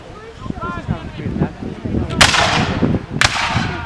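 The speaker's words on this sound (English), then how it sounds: "they're mortars" Mortars firing at a Seminole battle reenactment, two sharp loud blasts about a second apart, set against crowd chatter and outdoor background noise.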